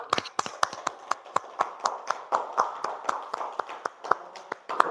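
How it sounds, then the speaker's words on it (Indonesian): Classroom applause from a group of students in a school lesson, a run of sharp uneven hand claps that keeps going for several seconds at a steady moderate level, with no talking over it. "Kasih aplaus juga yuk."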